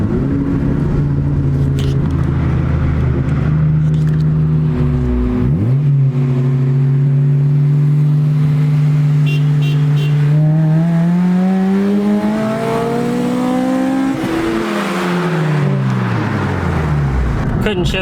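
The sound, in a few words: cars accelerating while racing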